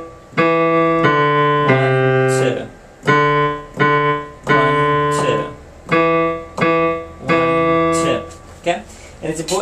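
Simple beginner piano melody of sustained notes, with half notes held twice as long as quarter notes, in a slow, steady rhythm with short gaps between phrases.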